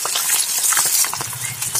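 Fish fries in a pan for a spicy Assamese fish fry, crisping up with a close, busy crackle of oil and irregular spattering pops, no voices.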